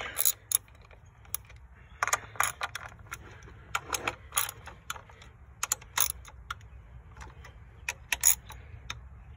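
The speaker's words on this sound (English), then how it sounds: "So let's get to taking these bolts out quick." Bolts being removed from the plenum of an Infiniti G35 engine: close, scattered metallic clicks and ratcheting ticks in quick irregular bursts, with small clinks of loose hardware and no talking.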